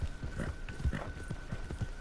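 Horse hooves clip-clopping in the Red Dead video game, a quick, steady, close rhythm of hoofbeats over a low rumble, with a faint tonal hum in the background.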